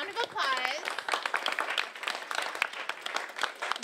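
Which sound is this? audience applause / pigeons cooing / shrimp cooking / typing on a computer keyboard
audience applause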